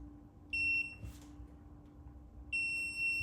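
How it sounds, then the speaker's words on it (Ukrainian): A Laser Deton Kamik initiation board, switched on with its safety inserted, gives two short high electronic beeps a couple of seconds apart over a quiet background hum. "Плата ініціації зі вставленим запобіжником видає короткий, ну, видає звук з затримкою."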